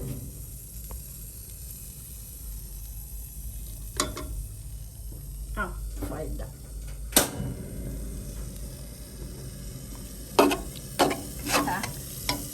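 Beaten egg frying in plenty of oil while wood ear mushrooms are added, giving a steady close sizzle with scattered sharp clicks and scraping stirs, a few louder pops near the end.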